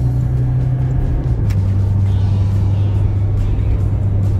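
A 2018 Toyota Hilux 2.8 overtakes on an open road, its engine a steady loud drone with a shifting pitch under constant road and wind rumble.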